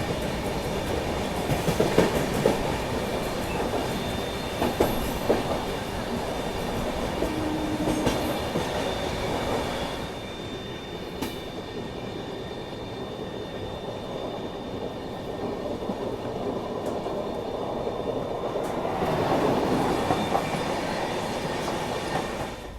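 Sampark Kranti Express train rattling steadily along the rails in Maharashtra, a continuous loud clatter of wheels over track joints with occasional squeals and metallic knocks, no voices.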